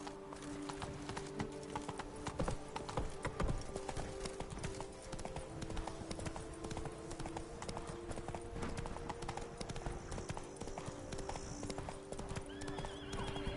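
Roach, Geralt's horse in The Witcher 3, gallops with steady rapid hoofbeats and an occasional whinny, set over continuous game ambience and music at moderate level.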